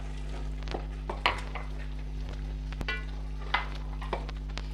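Mixed mustard, spinach and bathua greens saag is mashed in a pot, with intermittent metallic clinks and scrapes of the utensil over a steady background hum, close up and without talk.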